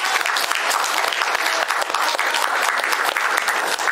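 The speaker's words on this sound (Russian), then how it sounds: "аплодисментами" Dense, even applause fills an award ceremony hall as an audience thanks an absent sponsor, a continuous wash of many hands clapping at close range with no voices.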